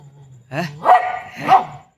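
A dog gives two loud, sharp barks about half a second apart, each followed by yelping whines, as it reacts to a cat close by.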